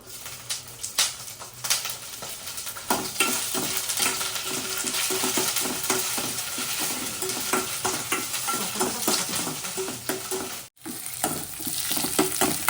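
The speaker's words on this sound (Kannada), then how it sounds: "ಬೆಳ್ಳುಳ್ಳಿ ಮತ್ತು ಕರಿಬೇವು ಚೆನ್ನಾಗಿ ಫ್ರೈ ಆಗಬೇಕು" Garlic and curry leaves frying in hot oil for pepper chicken, a dense close sizzle with quick stirring scrapes and clinks against the pan, broken by a short gap near the end, with no one speaking.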